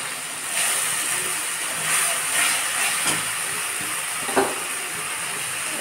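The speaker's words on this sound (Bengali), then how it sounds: "একটু লঙ্কার গুঁড়া দিলাম, দিয়ে ভালো করে মশলাটাকে কষে নেব।" Spice paste with salt, turmeric and chili powder fries in a pan, giving a steady, soft sizzle and hiss with a few faint scraping clicks.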